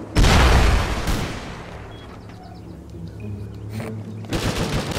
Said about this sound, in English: He just fired a rocket at one of them.